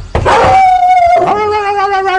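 A person's voice imitates a dog, starting with a short bark and sliding into a drawn-out wavering howl, loud and close, with a second yelping rise near the end.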